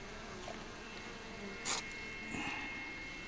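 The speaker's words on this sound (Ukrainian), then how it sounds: "у нас тут бджоли зібрались." A gathering of honeybees drones with a faint, steady buzz, close to the microphone, broken by a brief rustle and a soft knock.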